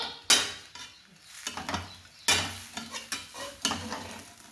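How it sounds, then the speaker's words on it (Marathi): Chutney goes into a pan of poha and is stirred through. Three bursts of spatula scraping and clanking are set over a low sizzle, close up, with short pauses between strokes. "आता चटणी टाकायची."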